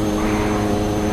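A MiG-15 jet flying in the video game DCS World, a loud, steady engine roar with a droning hum held through a short burst.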